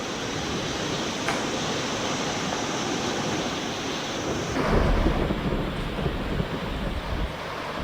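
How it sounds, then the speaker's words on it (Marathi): Heavy monsoon downpour across a district in Maharashtra, a steady dense roar of rain that swells louder midway, with gusty wind buffeting the microphone. "जिल्ह्यामध्ये सगळीकडे मुसळधार पाऊस सध्या सुरू आहे"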